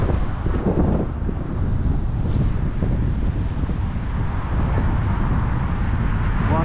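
Gusty wind rumbling across the microphone during an outdoor walk along a road, a steady loud low roar with uneven surges and no talking.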